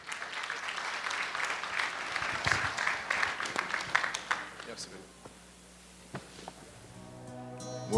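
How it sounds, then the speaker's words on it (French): Audience applause at a university graduation ceremony for the FMSS, a broad wash of clapping across the hall that fades out midway, followed by quieter room sounds and a brief voice near the end. "Je vous prie de l'applaudir chaudement."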